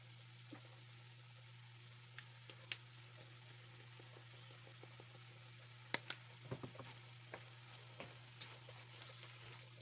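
Ground turkey seasoned with Cajun spice being stirred in a pan, with a soft steady sizzle under scattered scraping and tapping of the utensil, quiet and close.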